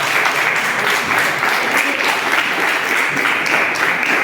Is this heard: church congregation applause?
yes